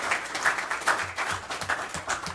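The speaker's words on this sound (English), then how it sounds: "Let's give them a round of applause." Scattered clapping from a small council-meeting audience in La Verne, applauding volunteering city staff; irregular, thin claps at moderate level, no voices over it.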